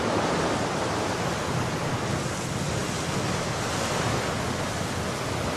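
Ocean waves wash steadily onto a beach where a whale lies stranded, making a constant, dense rushing of surf with wind-like hiss and no distinct breaks.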